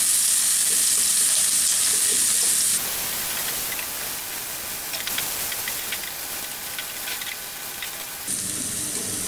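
Chopped onions fry in hot oil with a strong, continuous sizzling hiss, close and loud, steadying into softer crackles for a few seconds before the fierce hiss returns.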